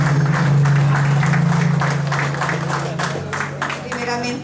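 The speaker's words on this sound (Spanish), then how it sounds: "Por favor, un fuerte aplauso para ella." Guests clap at a baptism celebration in Ossining, New York, with moderate applause heard beneath a voice speaking over a microphone and a steady hum in the room.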